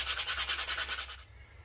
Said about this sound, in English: I plan on doing a very fine 400 grit sandpaper on it